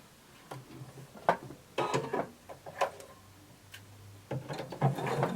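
Sewing machine running in short stop-start bursts while stitching a skirt seam from a notch mark down to the hem, with small clicks and fabric handling between passes, close and fairly quiet.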